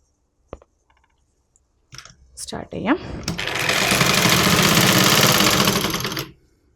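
Sewing machine stitching the sleeve of a nighty during an alteration, starting after a few handling clicks and a voice, then running in a steady fast whir for about three seconds before stopping.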